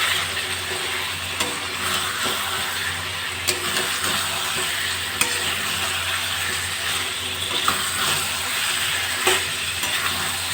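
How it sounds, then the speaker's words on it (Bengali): Fried potatoes and sweet pumpkin are stirred in a pan of spiced oil: a constant close sizzle broken by sharp scraping clicks of the spoon at irregular intervals. "এবার ভাজা আলু মিষ্টি কুমড়োগুলো দিয়ে দেবো"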